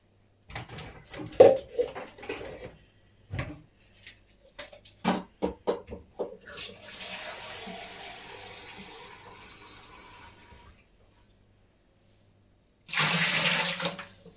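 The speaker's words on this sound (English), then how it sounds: "I'm just going to add a little bit more water to the canner." Water splashes and pours into a canner pot holding vinegar after some clinking and handling noises, with a steady rush of filling water later and a brief burst at the end.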